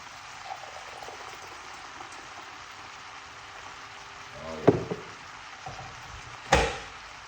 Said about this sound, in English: pour some hot water on it.